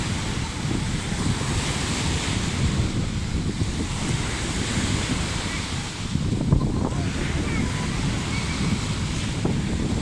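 Steady roar of sea surf breaking on a beach in Chonburi, Thailand, with strong wind buffeting the microphone throughout, loud and continuous with a slight surge midway.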